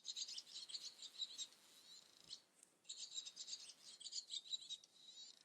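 A recorded call of a fork-tailed bird plays as bursts of high, rapid chirping trills. Two long phrases are split by a short gap. The sound is faint and distant over a quiet background, with no speech.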